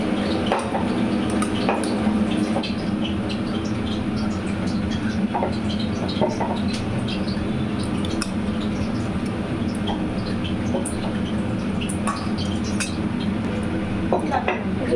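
Plates, dishes and cutlery clink and tap repeatedly as food such as sweets and potato curry is served onto plates in a home kitchen. The sharp, close knocks come in irregular bursts over a steady background hum.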